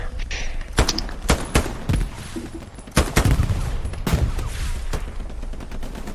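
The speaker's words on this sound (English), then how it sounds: "The tank shot me from 300." Heavy gunfire in a multiplayer shooter game, with a tank's cannon firing among the shots: booming blasts and rapid bursts arrive in uneven clusters over a steady background rumble, loud and close, with no talking.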